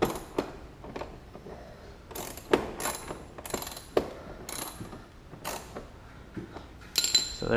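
Ratchet clicks as screws are driven into an aftermarket-style OEM front bumper splitter on a BMW E90 335i, coming in short close bursts of rapid clicking separated by brief pauses.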